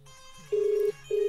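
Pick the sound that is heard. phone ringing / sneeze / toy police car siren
phone ringing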